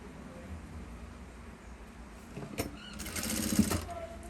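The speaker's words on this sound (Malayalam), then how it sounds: "എന്നിട്ട് ഇവിടെയും കൂടെ ഒന്ന് തയ്ക്കുക" An electric sewing machine stitches a fold on a churidar, a low, soft mechanical hum that swells into a louder, faster run of stitching near the end.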